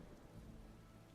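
Steady rain hisses in the video game Skyrim, a continuous soft wash with a low rumble beneath it, faint and even throughout.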